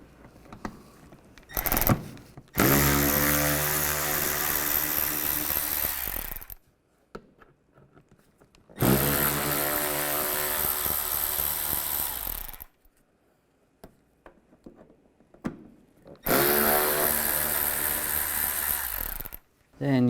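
A power tool with a T20 socket backs screws out of the inner fender area of a 2011-2015 Chevy Cruze, three long loud whirring bursts separated by short pauses, close and dominant.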